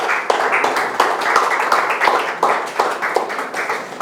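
Applause at a graduation ceremony, following the director's speech: a close, steady patter of many hands clapping for about four seconds, with a few sharper individual claps, and no talk over it.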